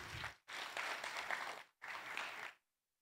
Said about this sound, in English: I thought you're going to give them a big clap.